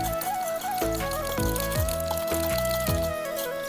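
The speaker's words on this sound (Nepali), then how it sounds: "अब यो पानी हाल्यो हामीले" Water is poured into a plastic orchid flask to rinse Cymbidium orchid media, a close, steady gurgle and glug with rising pitch as it fills, continuous and with no talk.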